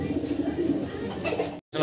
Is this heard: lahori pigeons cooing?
yes